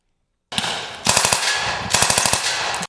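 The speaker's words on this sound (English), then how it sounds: "students in the ROTC program woke up to gunfire as they took part in a 2-day training exercise" Rapid bursts of automatic gunfire at an ROTC military training exercise on a college campus, two loud volleys of closely spaced shots with steady noise between them and no talk.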